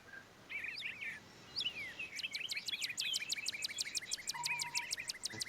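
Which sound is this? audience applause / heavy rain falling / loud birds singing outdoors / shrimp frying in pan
loud birds singing outdoors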